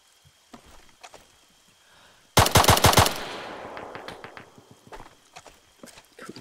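A sudden burst of rapid automatic gunfire in the video game Arma III, loud and close, followed by a fading echo and a few scattered later shots over faint background noise.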